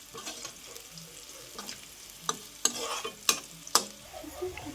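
Turmeric is stirred into a frying mixture in a pan while making sago upma, with a steady low sizzle broken by several sharp spoon scrapes and knocks against the pan.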